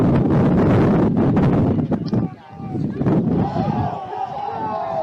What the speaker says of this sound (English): You can hear that wind is whipping quite a bit.